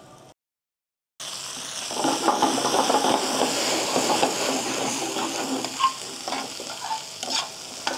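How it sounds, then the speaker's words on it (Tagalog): Onion and tomato sautéing in a pan, a steady loud sizzle with stirring scrapes and occasional pops after a short silence at the start. "So magigisa lang tayo ng sibuyas. Tapos, sunod na rin natin yung kamatis."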